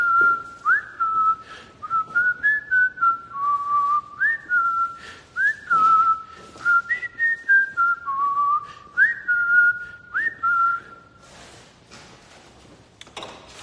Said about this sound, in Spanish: Vamos a silbar.